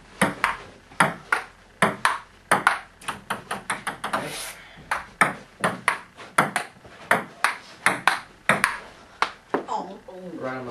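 Ping pong ball rally, with sharp hollow clicks of ball on paddle and table in a quick, steady back-and-forth run of close, bright hits through most of the stretch, and a few voices now and then.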